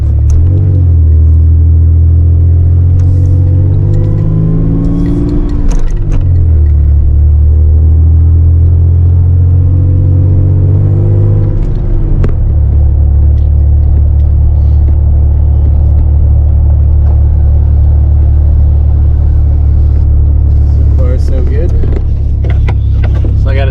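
A lifted first-generation Toyota Tacoma truck with a differential drop kit is driven, its engine a loud, steady low rumble throughout, with shifts in pitch as it accelerates and changes gear, and small interior clatters near the end.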